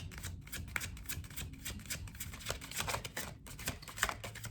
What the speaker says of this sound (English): I'm noticing that the cards are shuffling in kind of a tangled way